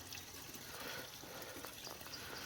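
Spring water flowing steadily out of a hillside in July, a continuous close trickling and splashing wash with no talk.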